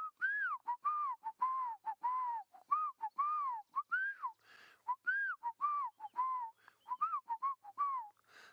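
Black-crowned tchagra calling with a string of clear, melodious whistled notes sliding up and down, repeated in quick bursts with short gaps, moderately near in a quiet outdoor setting at sunrise.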